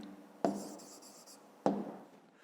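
A pen writes on paper during a fifth-grade math exercise, making two quick scratchy strokes close to the microphone over a quiet room hiss.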